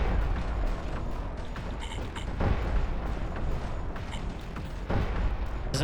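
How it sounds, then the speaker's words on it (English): Turrets take damage in the underwater game Codename: Ocean Keeper, with repeated booming impact sounds and brief bright alert-like bursts over a constant rumbling barrage of weapon fire. "it is trippy hearing the damage sound going off when it's the turrets taking the damage"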